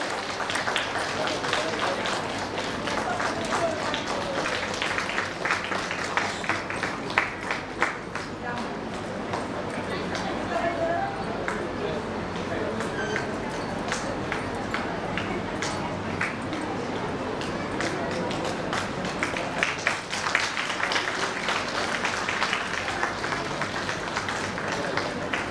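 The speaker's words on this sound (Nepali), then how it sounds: "तपाईँले तालीले स्वागत गरिदिनु होला" Steady applause from an audience at a cooperative society's award ceremony welcomes an honoree, a dense, continuous patter of claps that lasts throughout, with talk mixed in.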